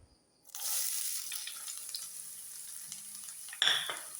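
Onion and chili frying in coconut oil, a steady close sizzle that starts abruptly and holds, with a brief louder hiss near the end and no talking.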